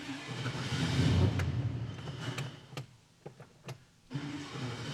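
A small block Chevy engine fitted with a new carburetor cranks and catches, building into a loud near rumble that then dips into a few short uneven bursts before settling back into a steady high idle.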